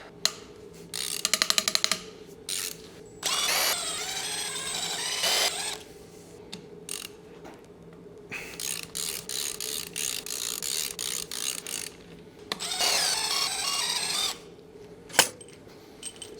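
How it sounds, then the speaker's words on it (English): Ratchet clicking in bursts while loosening the main bearing cap bolts on a neglected BMW E39 M5 engine, with rapid pawl ticks, separated by pauses and a few sharp metallic knocks, close up with no talk. "first we're gonna loosen the outer taper screws and then the inner main screws"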